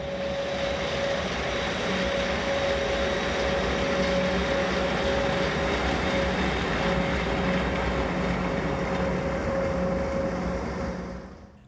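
Austrian ÖBB class 1144 electric locomotive 1144-068 runs on the Semmering railway, a steady loud drone with a sustained tonal whine and rumbling wheels, holding level before cutting off abruptly at the end.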